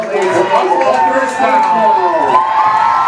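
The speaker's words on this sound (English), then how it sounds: "their crowd is right back into it now" A high school football state semifinal crowd cheers and shouts loudly and steadily after a first down, with many young voices yelling over a dense roar and a commentator talking over it.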